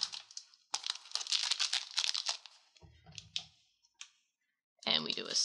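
A Digimon card game booster pack is snipped, torn and pulled open up close: sharp crinkling foil bursts and short rips separated by brief pauses, with a voice speaking partway through.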